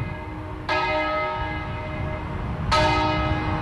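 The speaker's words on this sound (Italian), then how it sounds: "Campane a martello a Biancade per il Musestre." Church bells in Biancade ring out an alarm peal, clanging in two loud bursts of repeated strikes that hang and ring on between them, heard clearly from nearby with no talk.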